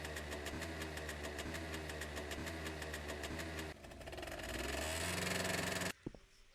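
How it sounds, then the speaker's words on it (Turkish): A motorcycle engine in the World War II game Wolfschanze throbs with a fast, even pulsing drone, then shifts and revs higher before cutting off abruptly, followed by a few faint clunks. "Motosiklet iyi de."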